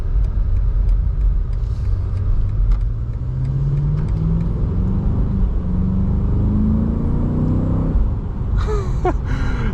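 A 2025 BMW M8 Competition V8 pulls hard from a launch, its deep engine note climbing steadily through the revs inside the cabin, loud and continuous, then easing as a squeaky, whistling sound cuts in at the end.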